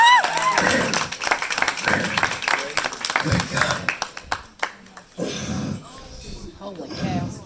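Lively clapping from a crowd mixed with talking and cheers, loud at first, then thinning and picking back up.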